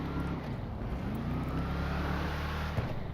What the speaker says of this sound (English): the muscle car that handles like a sports car